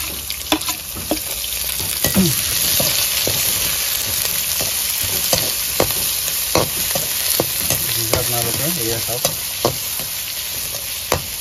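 Onions and a couple of chopped green chilies sizzle and fry in a pan while being stirred, with steady hissing broken by scraping strokes and a few clicks of the utensil against the pan.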